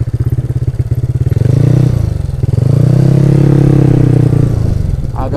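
A motorcycle engine, ridden for drifting on a dirt track, chugs at idle in rapid pulses, then revs hard in two loud sustained surges close by.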